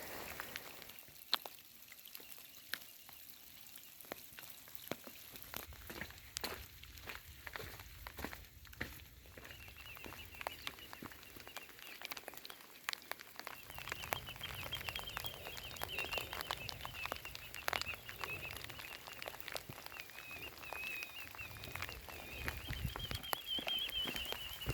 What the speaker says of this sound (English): It is just the constant rain.